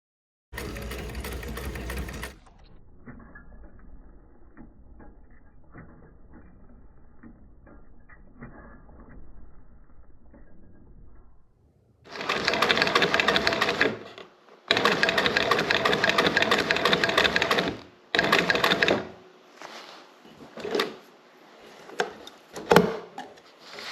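An industrial sewing machine stitches upholstery main panels for a 1950 Cadillac hearse in several loud mechanical bursts of rapid rattling, with quieter workshop handling noises between runs.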